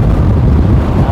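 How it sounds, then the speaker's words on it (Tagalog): Strong wind buffets the microphone at a bicycle race, the Oying Parayno Cup, as a loud, continuous low roar for a brief moment. "malakas yung ating hangin"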